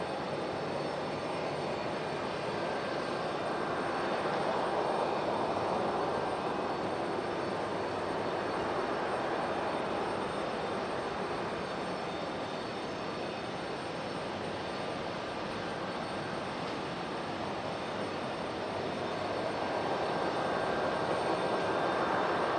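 A United Boeing 737-800 in Star Alliance livery touches down at Raleigh-Durham airport in stormy weather, its jet engines giving a loud, steady broadband roar that swells slightly near the end and never drops out.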